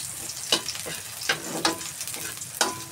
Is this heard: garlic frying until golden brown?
yes